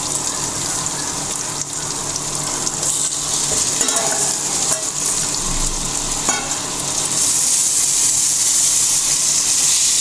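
Chicken pieces hit a pan of cooked-down masala for a chicken and potato curry, giving a loud continuous sizzle with scraping stirs and watery bubbling, the hiss growing brighter toward the end.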